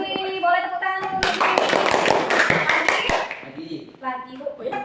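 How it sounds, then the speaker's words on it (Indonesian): Students in a junior high classroom break into a burst of applause lasting about two seconds, with voices talking before and after. "Boleh tepuk tangan dulu."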